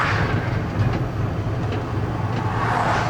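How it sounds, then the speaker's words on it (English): A 1986 Dodge Ram truck rumbles along with a heavy clunking and bucking from a bad U-joint or transmission mount, a loud continuous low drivetrain roar with irregular knocks and no speech. "We've got a really bad U-joint or a bad transmission mount or something on this thing."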